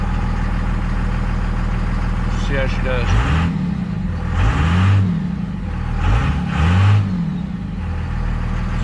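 A 2001 Cummins 24-valve diesel pickup engine idles with a steady rumble up close, rising in two pairs of short revs; a person talks briefly over it.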